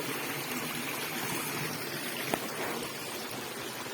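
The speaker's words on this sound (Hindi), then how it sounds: "झरने के पानी के आवाज से जो मन को शांति मिलती है" Steady rushing of waterfall water in a forest, a continuous broadband wash close by with no voices.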